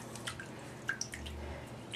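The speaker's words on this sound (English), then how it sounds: "You can put your hand in the water and just go back and forth, so that way it'll clean it out." Water drips into a basin while a makeup brush is rinsed during deep cleaning. The small plinks and splashes are close and irregular and sound alone over a quiet background.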